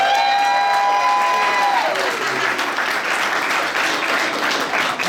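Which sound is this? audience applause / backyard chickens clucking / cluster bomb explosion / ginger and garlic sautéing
audience applause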